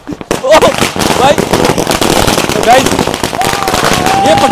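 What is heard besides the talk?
firecrackers exploding during Diwali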